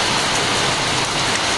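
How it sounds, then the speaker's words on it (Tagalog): Steady, dense rain pouring down outside a house, a constant loud hiss with no breaks and no voices. "Patitilain ko muna ang ulan guys"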